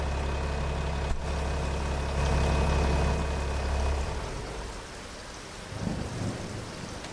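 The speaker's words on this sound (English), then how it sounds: "Please stop raining." Steady rain patters and a deep rolling rumble of thunder builds and fades in a Farming Simulator 25 game scene, with a low engine idle beneath and no speech.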